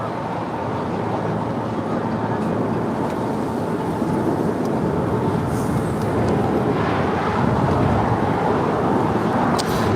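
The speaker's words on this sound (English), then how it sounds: "That is All Nippon Airways flight 9642 coming in from Tokyo Narita." An All Nippon Airways Boeing 777-300ER arrives at LAX from Tokyo Narita, making a loud, steady, broad jet roar that holds throughout, with light background noise.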